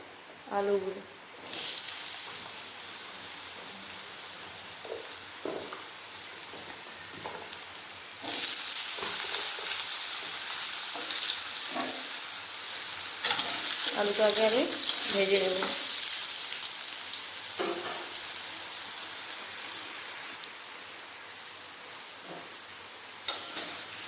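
Whole cumin, two dried red chillies and a bay leaf hit hot oil for a vegetarian pumpkin, potato and chickpea chokka. A loud sizzle bursts up and keeps going, with short spoken bits between stretches of frying.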